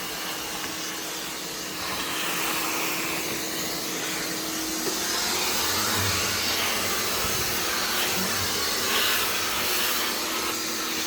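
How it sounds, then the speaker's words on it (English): A vacuum cleaner on its low setting, with an attachment, cleans debris off a machine door, running steadily throughout with a loud, continuous whooshing drone and airy hiss, holding roughly the same pitch and level. "Vacuum off the door."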